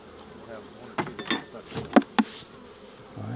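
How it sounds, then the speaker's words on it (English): Honey bees buzzing close by during a backyard honey harvest, soft buzzing with several brief sharp scrapes and knocks of frames being handled, fairly faint overall. "Can't believe how calm your bees are."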